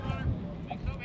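Gusty wind off the lake at a lakeside baseball field buffets the microphone in a steady low rumble, with someone talking over it.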